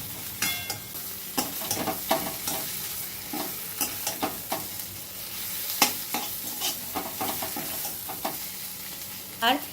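Bottle gourd leaf bharta stirred constantly in a wok over high flame, a steady sizzle and fry broken by repeated scraping strokes of the spatula, close and fairly loud.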